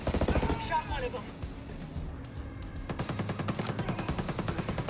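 Gunfire from the video game Tom Clancy's Ghost Recon Breakpoint during a night-vision engagement: scattered shots at first, then a long run of rapid, evenly spaced automatic bursts, fairly quiet overall.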